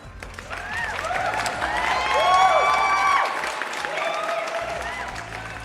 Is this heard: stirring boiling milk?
no